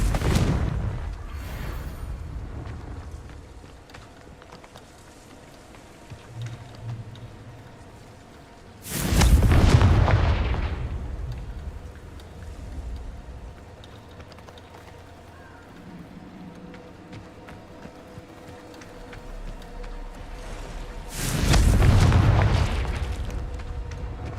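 Confringo blasting curses from the game Hogwarts Legacy bursting in two heavy, booming explosions several seconds apart, each with a rushing whoosh and rumbling tail over quieter ambient game sound.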